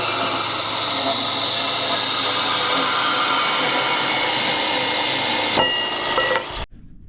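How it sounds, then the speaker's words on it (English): A bandsaw cuts steel exhaust hanger pieces with a loud, continuous grinding hiss that holds steady, then tapers and cuts off abruptly near the end. "So we're going to get all these set up in the bandsaw and get them cut out."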